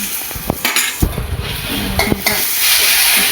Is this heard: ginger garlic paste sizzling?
yes